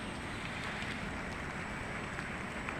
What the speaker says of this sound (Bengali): এখন জোর বৃষ্টি শুরু হয়েছে